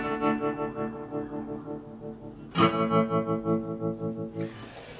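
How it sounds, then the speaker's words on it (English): A sustained guitar-like tone pulses under two tremolo effects set at different speeds, giving a wobbling, syncopated throb that shifts as the waveforms drift, with a sharp attack midway. "When you have two tremolos on at the same time, but they're set at different speeds, you get this sort of syncopation between the two different waveforms."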